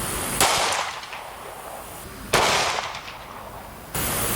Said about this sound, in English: Up next is 357 SIG.